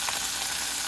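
Steady sizzle of fish frying in mustard oil in a home kitchen wok, a continuous close hiss with no talking.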